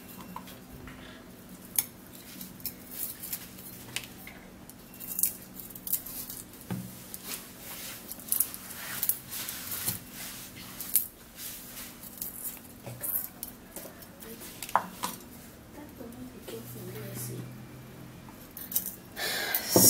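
Garlic cloves being peeled by hand, a quiet run of small crackles, papery rustles and light taps scattered unevenly through the clip, close and faint, with no voices.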